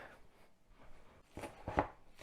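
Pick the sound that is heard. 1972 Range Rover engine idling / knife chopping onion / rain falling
knife chopping onion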